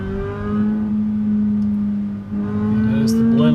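A race car accelerates out of the pit lane at Road Atlanta, a steady loud engine tone climbing in pitch, briefly dipping before rising again.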